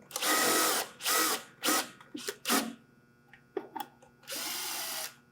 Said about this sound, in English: If I use the coarse threaded screws, that sunk it together.